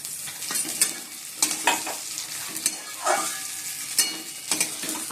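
Spinach with lentil dumplings frying in mustard oil with a little sugar, a close, crackling sizzle broken by rhythmic spatula stirs and scrapes against the pan, no voices.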